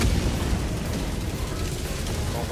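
Mortar strikes land in the video game Helldivers 2 as a dense, continuous rumble of explosions. Heavy low booms overlap with little pause between them and stay loud throughout.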